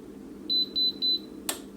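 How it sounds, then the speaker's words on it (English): A multi cooker gives three short, clear electronic beeps in quick even succession after being set to slow cook, followed by a small click, all close and alone in a quiet kitchen. "let's just see if it beeps like the Instant Pot does"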